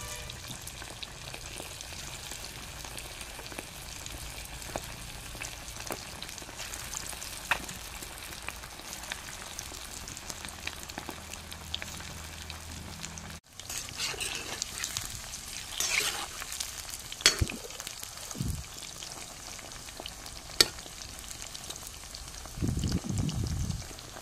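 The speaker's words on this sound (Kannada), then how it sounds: "ಇವಾಗ ಕಬಾಬ್ ಫ್ರೈ ಮಾಡ್ತಾ ಇದ್ದೇನೆ." Kebab fries in a pan with a steady close sizzle, broken by occasional louder spits and scrapes toward the end.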